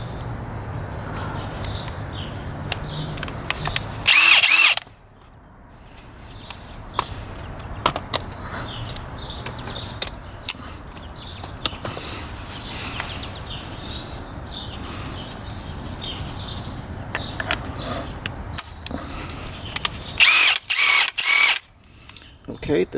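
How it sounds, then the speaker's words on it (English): A Bosch Freak brushless impact wrench undoes a 130 foot-pound nut: a loud, close hammering burst, then a quieter stretch of handling noises, and a second, longer rattling burst toward the end. "Let me try out the original Freak, the brushless motor one."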